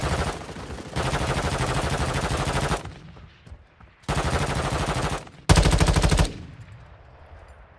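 An LMG machine gun in Warzone Mobile fires in long, loud sustained bursts, three main streams of rapid automatic fire separated by short gaps with faint clatter, the last burst sharper and closest, with no talk.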